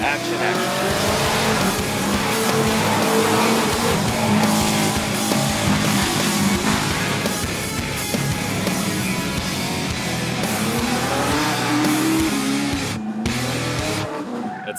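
A race car driving at speed for a behind-the-scenes film shot, engine roaring continuously and close with tire squeals and skidding, steady and loud throughout.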